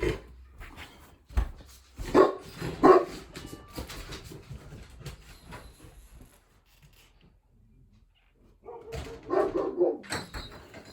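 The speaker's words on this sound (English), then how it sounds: "One dog, I don't even know how far down, barks." A dog barks several times at a distance, scattered, uneven yaps with quiet gaps between them, faint and far off.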